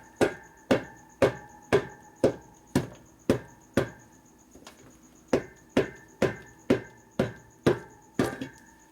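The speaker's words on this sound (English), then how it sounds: "This is rubber tipped hammer, so you don't do any damage." A rubber-tipped hammer strikes a motorcycle tire on a 1972 Harley-Davidson 1000cc Ironhead Sportster in steady, evenly spaced dull thuds, about fifteen blows with a brief pause midway, close and prominent.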